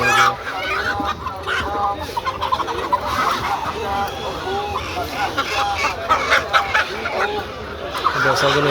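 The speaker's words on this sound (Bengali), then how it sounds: "হাঁস মুরগি কবুতর পশু পাখি অনেক কিছু বিক্রি করা হয় এখানে" Poultry at a busy market, ducks, chickens and pigeons for sale, with a dense continuous din of clucking, quacking and gobbling calls mixed with crowd voices, loud and close.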